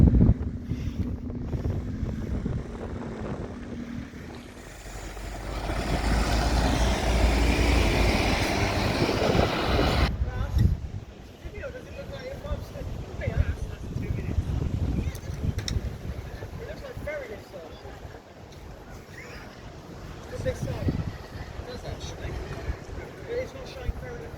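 Rumbling ride aboard a More Buses service around Boscombe, with a loud, rushing stretch of engine and road noise that eases after about ten seconds into a steadier, quieter cabin drone.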